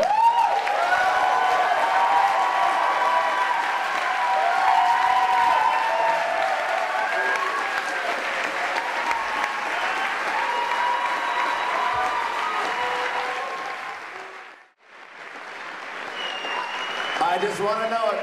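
An audience of 500 poetry lovers at a Saskatoon poetry slam final clapping and screaming, a loud sustained roar of applause and cheers that fades briefly near the end before rising again.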